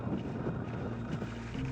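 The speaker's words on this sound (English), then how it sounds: "Windy." Low, rumbling wind buffets the microphone in uneven gusts at the mouth of the Rocky River on Kangaroo Island, Australia, with no voices.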